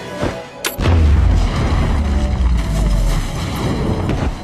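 Bombs going off after a countdown in a loud deep blast that follows a sharp crack, then a long rumbling roar with wind-like buffeting that slowly fades.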